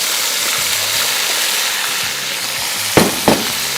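Okra fries in hot oil in a pan with a loud, steady hiss and sizzle, broken by a couple of quick scraping stirs.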